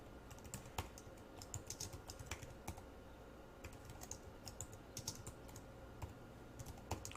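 Fast, irregular key clicks from someone typing on a computer keyboard, fairly quiet and close, with brief pauses between bursts.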